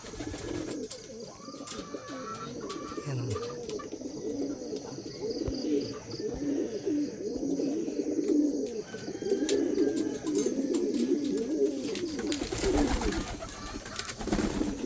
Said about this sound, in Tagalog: Ito yung mga luma kong kalapate mga kapatid.